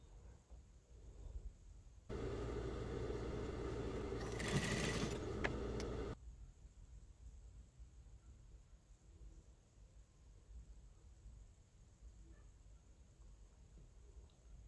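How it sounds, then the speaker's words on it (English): A sewing machine top-stitches a buttonhole on a pair of shorts, running as a steady close whirring hum for about four seconds before stopping, with quiet room noise afterward. "I'm going to top stitch it and top stitch the other one that is going to have the button too."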